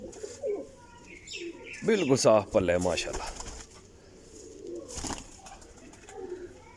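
A Kasuri Teddy flying pigeon gives soft, low coos close by, with someone talking over and between the calls and faint chirps in the background.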